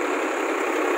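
Solis 4215 tractor, a 45 HP model, pulling a heavy-duty seven-bottom plough, its engine a steady, loud and close drone with a constant low hum and no break across the moment.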